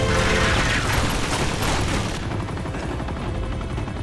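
Dense gunfire fills a Spanish-language play session of the Uncharted: Nathan Drake Collection demo on PS4, with rapid overlapping shots and booms sounding loud and continuous throughout.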